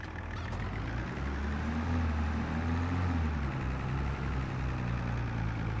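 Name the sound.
tractor engine in video game Farming Simulator 22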